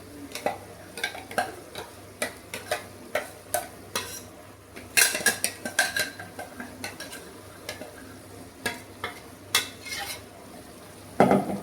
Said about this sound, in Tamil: மசாலா அதில் சேர்த்து அப்படியே நல்லா பரட்டி விட்டுருவோம்.